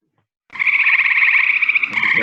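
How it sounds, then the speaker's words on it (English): A tree frog calls loudly and close up, one sustained trilling croak that starts abruptly after a moment of silence and continues steadily to the end. "That's a great tree frog."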